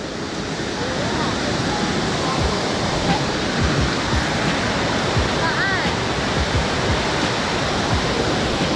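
Water in a forest stream rushes continuously, a dense, steady roar filling the whole clip at close range.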